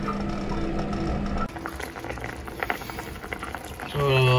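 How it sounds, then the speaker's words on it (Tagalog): Sardine and elbow macaroni sauce bubbles and spatters in a pot, continuous and close, with a brief tonal beep near the end. "Kumukulo na yung ating binisa."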